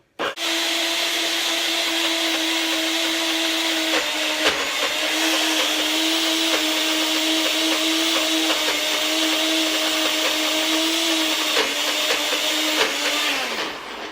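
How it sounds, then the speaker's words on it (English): A blender runs continuously at high speed, a steady loud whirring motor drone with a faint pitch dip partway through and a short clatter at the start, stopping abruptly at the end. "We're going to blend and then we're going to scrape down to make sure that we get all of it blended."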